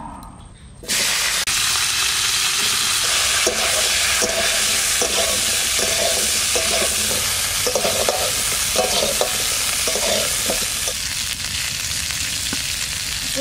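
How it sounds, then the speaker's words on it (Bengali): Cauliflower fries in the oil left from frying kalbaus fish, giving a loud, continuous close-up sizzle with a rhythmic scraping of stirring running through it. "মাছ ভাজা হয়ে গেছে, ওই তেলের মধ্যে আমি কপিটা ভেজে নেব।"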